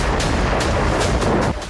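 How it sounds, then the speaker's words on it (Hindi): Missiles launched during a military exercise, a rapid series of loud, sharp blasts about every fifth of a second, close and powerful over a constant rumbling roar. "युद्धाभ्यास में मिसाइलें दागी"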